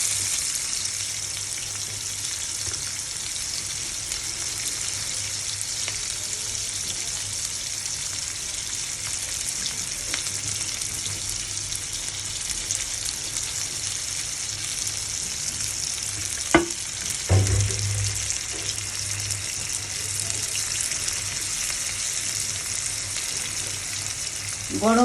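Onions fry beside hilsa fish in a pan, giving a steady, dense sizzle that fills the whole stretch. A couple of brief utensil knocks sound near the middle.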